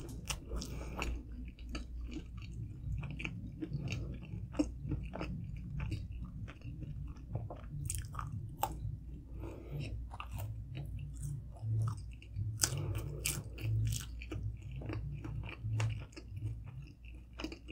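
Someone eating Totino's pepperoni pizza rolls in a mukbang, close-up wet chewing and soft crunchy bites repeating in an irregular rhythm, quiet and intimate with no talking.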